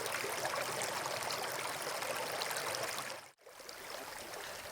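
Water pours down a 2-metre ornamental garden pond waterfall, a dense, steady rushing splash heard close up and alone, briefly cut by a short dropout near the end.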